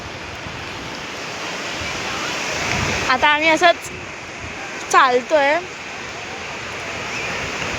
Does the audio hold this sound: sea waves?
yes